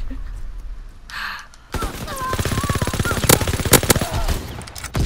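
Shotgun fire in Call of Duty: WW2 multiplayer: after a faint breathy sound, a loud stretch of rapid, closely spaced blasts erupts and continues to the end, with a few especially sharp cracks standing out and a voice briefly heard under it.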